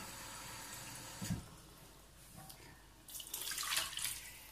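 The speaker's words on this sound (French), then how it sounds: "Je vais mettre de l'eau claire." Clear water poured from a tap onto dried okra in a dish, a quiet splash early on, then a louder, steady rushing pour near the end, close with no voices.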